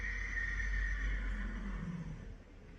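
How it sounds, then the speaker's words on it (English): Horses whinny loudly and continuously over a low rumble, the call sustained and drawn out before trailing off, with no talking. "And the horses agree."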